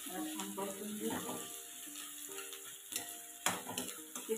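Fenugreek seeds sauté in a pan, giving a soft sizzle with scraping stirs and a few sharper clinks of the spoon, while a voice talks over the cooking.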